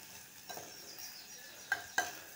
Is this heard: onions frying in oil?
yes